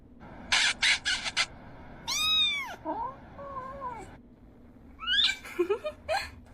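A displeased cat meows repeatedly, with drawn-out, wavering, complaining cries interspersed with short bursts of noise, close and fairly loud in an otherwise quiet room.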